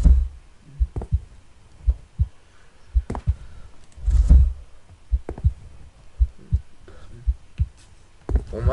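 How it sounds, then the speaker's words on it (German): In a horror video game, a steady heartbeat thumps out in deep, muffled double beats. The pulse is regular, low and loud, repeating about once a second with faint ambient noise between beats. "Warum hat mein Charakter auf einmal irgendwie so komische Herzschläge?"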